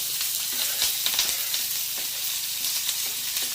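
Red onions frying in a little olive oil in a skillet, a continuous crackling sizzle with light stirring taps scattered throughout.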